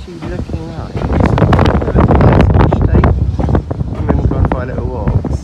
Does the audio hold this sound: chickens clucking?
no